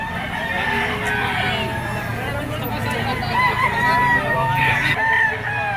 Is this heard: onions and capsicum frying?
no